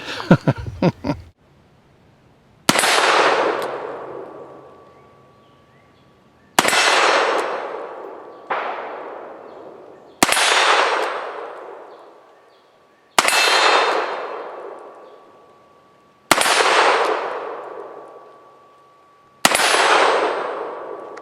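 Seven loud .44 Magnum shots from a Ruger Redhawk revolver crack out one at a time at irregular intervals of a few seconds, each with a long ringing decay, after a brief rattle of handling.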